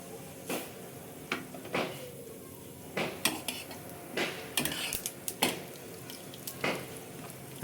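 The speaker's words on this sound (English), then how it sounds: "I'm going to add the sesame seeds" Sesame seeds and urad dal spluttering in hot oil in a pan, with a faint crackle under repeated sharp pops and clinks of a spoon against the pan.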